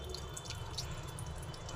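Water dripping and trickling steadily as boiled taro root is squeezed by hand, close and continuous with no talk over it.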